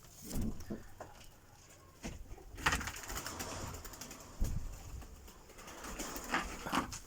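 Adana pigeons in a loft give soft, intermittent cooing calls over low background rustle and occasional thumps, fairly quiet and close.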